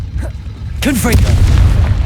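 A Confringo spell blast in Hogwarts Legacy, a loud booming burst that rumbles on low and heavy for the rest of the moment, with a voice speaking over it.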